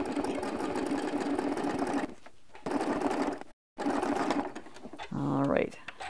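Sewing machine running steadily while stitching crosshatch quilting lines guided by rulers, a continuous mechanical hum broken by short pauses and one brief silent gap, with a voice talking over it.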